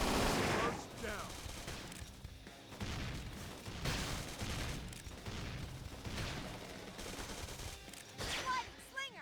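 Gunfire in the video game Xenoblade Chronicles X comes as rapid bursts of shots and blasts, repeating every second or two at fairly even loudness, with voices heard among them.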